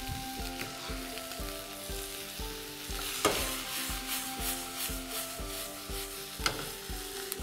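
Onions and green chillies fry in a pan for a South Indian egg roast masala, a steady close sizzle with rhythmic stirring scrapes and occasional louder knocks, no voices.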